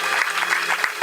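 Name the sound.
church congregation clapping for God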